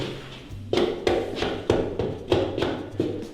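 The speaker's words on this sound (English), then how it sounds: "Just as a demonstration, you're gonna drive that shim in there." A shim is hammered under a DIY home power rack: about six sharp, evenly spaced hammer taps, each a close wooden knock with a short ring, in a quiet room.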